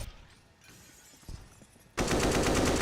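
Pistol fire from a Counter-Strike esports match, with quiet sparse taps at first, then a sudden loud burst of rapid gunfire and shattering near the end.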